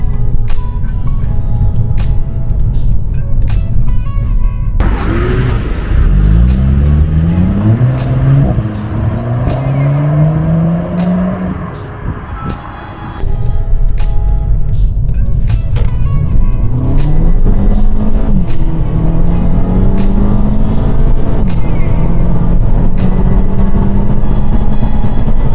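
A remapped, high-mileage Volkswagen Golf GTI engine roars loudly under acceleration, revs climbing through several gear changes with turbo boost, then easing off before building again in a long, steady drone.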